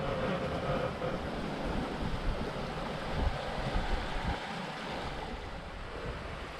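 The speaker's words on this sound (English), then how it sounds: "we're just scooting along in fairly calm water" A sailboat moves at about 6.5 knots through fairly calm water in roughly 10 knots of wind, giving a steady, soft rush of water and wind noise with no voices.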